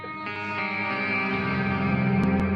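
Kiesel 9-string electric guitar played through heavy effects, a sustained swelling chord washed in echo, chorus and reverb with some distortion, loud and close, with two brief high blips near the end.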